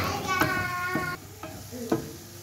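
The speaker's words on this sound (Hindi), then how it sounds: "ये घी पूरा छोड़ देगा, तब तक के लिए इसको भूनते ही रहना है, भूनते ही रहना है" Egg mesub mixture frying in ghee in a pan while a spoon stirs it, with a steady sizzle broken by a few louder scraping strokes and softer pauses.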